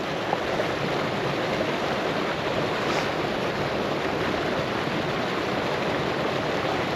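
Dog Creek flows steadily toward Gilmore Lake beside a kayak, a continuous broadband rush of moving water, close and even throughout with no voices.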